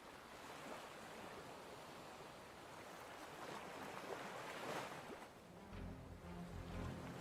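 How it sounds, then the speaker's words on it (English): Waves rolling onto the beach of an open sea, a steady broadband wash of surf with swelling surges and a deeper rumble near the end, heard alone with no voices. "Waves crash on the beach of an endless sea."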